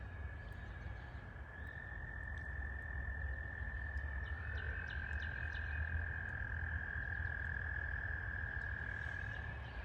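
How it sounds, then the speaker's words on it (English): A dense chorus of frogs trills steadily and continuously in spring, a high sustained buzz over a soft outdoor background at a backyard plant nursery, with no talking. "If you listen closely, you can hear the frogs beginning to wake up this spring."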